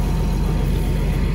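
Low, steady engine rumble from a tractor towing an anhydrous ammonia tanker out to a field; a continuous heavy drone sits close and loud, with no voices over it.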